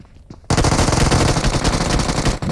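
Automatic gunfire in PUBG Mobile played on Gameloop, a loud continuous burst of rapid shots starting abruptly after a brief quiet moment and lasting about two seconds.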